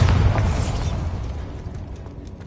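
A Bombarda blasting spell goes off in the video game Hogwarts Legacy: one loud, close explosive boom with a deep rumble that slowly fades over a couple of seconds.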